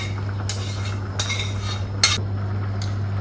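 Scallop pie filling with leek and thyme is mixed in a casserole dish, a handful of separate metal-on-dish clinks and scrapes spaced about half a second apart over a steady low hum; close, no talking.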